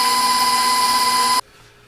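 An electric mixer whirs steadily through pecan pie batter with a constant high motor whine, close and loud, then cuts off abruptly, leaving near-silence.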